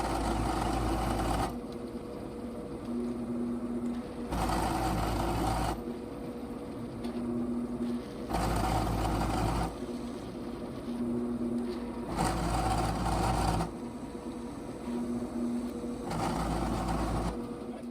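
A machine tool shortening a sailboat traveller clip piece, alternating in regular cycles between a louder cutting drone and a quieter running hum, repeating steadily several times.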